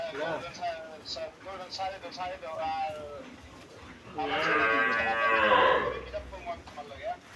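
A cow lets out a long, loud moo after a stretch of nearby people talking, with a busy murmur behind at a cattle market in the Sylhet-Habiganj area of Bangladesh.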